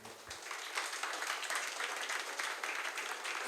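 Sustained crowd applause from a worship concert audience, dense steady clapping filling the space for several seconds with no voices on top.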